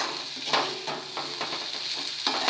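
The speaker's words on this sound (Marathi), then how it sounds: "आणि ही भाजी ढवळून घ्यायची" Spicy potato bhaji being stirred in a pan: a sizzle under several scraping strokes of a spoon against the metal, close by and steady for a few seconds.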